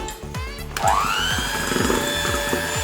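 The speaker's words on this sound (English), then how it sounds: "So then we are going to go in with our hand mixer" An electric hand mixer whirs steadily through a wet vanilla pancake batter. Its motor whine climbs in pitch as it speeds up, then runs continuously with a rhythmic churning underneath.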